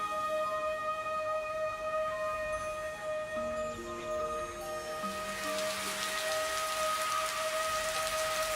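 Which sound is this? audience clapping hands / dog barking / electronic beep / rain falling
rain falling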